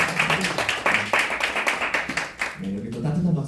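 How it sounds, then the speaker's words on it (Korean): An audience at a press conference for invited overseas Korean journalists gives a short burst of warm applause, with scattered hand claps close by and a voice speaking over it. "여기 또 따뜻한 박수로 함께해 주셔서 진심으로 감사합니다"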